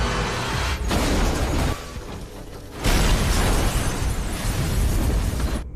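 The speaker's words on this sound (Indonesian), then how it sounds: "Supir truk tersebut tiba-tiba menabrakkan truknya ke depan kantor polisi sampai meledak" Loud, sustained crashing and explosive rumbling with a brief dip, then another heavy burst of roaring blast noise as a truck smashes into a police station and blows up in a game.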